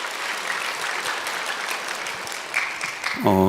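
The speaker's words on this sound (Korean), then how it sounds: "우리 박수로 환영하겠습니다" Congregation applause welcoming missionaries from Singapore at a Sunday afternoon church service, a dense, even clatter of many hands sustained for a few seconds before a voice and a musical tone come in at the end.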